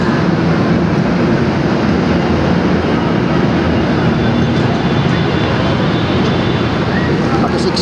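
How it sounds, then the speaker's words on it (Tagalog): A loud, continuous rumble and rattle fills the inside of a moving MRT train in Manila, steady throughout, with murmured voices blending into the noise. "Kaya sakay tayo sa MRT, ano?"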